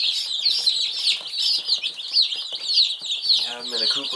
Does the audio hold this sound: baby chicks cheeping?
yes